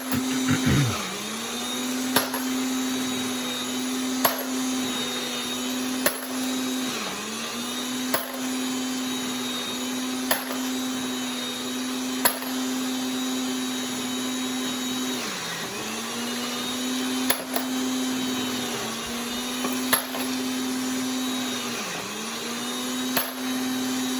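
A Little Crow Gunworks WFT trimmer tip spins with a steady motor-like whine that holds an even pitch, briefly dipping as it slows and recovering, with faint periodic clicks, close and loud throughout, no voices.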